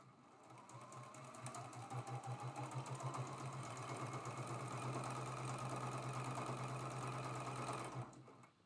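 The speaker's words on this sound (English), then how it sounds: "lay it over, match them up, and sew that seam" A sewing machine runs a steady, rapid needle clatter for about eight seconds as it stitches a seam joining quilt blocks for a traditional maple leaf pattern, then stops abruptly.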